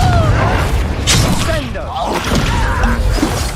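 Incendio fire spell cast in Hogwarts Legacy, loud crackling whooshes and thuddy impacts amid busy combat noise, with a brief burst near the one-second mark and rumbling low end throughout.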